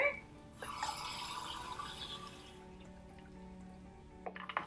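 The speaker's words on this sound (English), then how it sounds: "so I'm going to fill this up with water." Water streams into a cup for an air pressure demonstration, a bright filling pour that runs for a couple of seconds and then tapers off into faint drips and small clinks.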